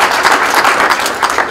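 Audience applause for the panelists and moderator at a university energy panel discussion, dense steady clapping throughout, loud and close, with no talk over it.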